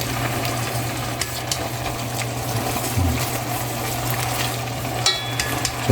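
Oyster pasta sauce thinned with starchy pasta water reduces over high heat in a pan, giving a steady, close frying sizzle with faint stirring clicks and no talk.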